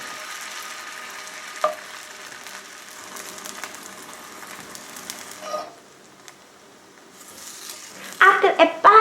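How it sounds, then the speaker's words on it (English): Steady sizzling of arepas frying in oil in a cast iron skillet on medium-high heat, a continuous crackle with occasional pops, growing louder and busier toward the end. "Listen, you can hear the arepas crisping."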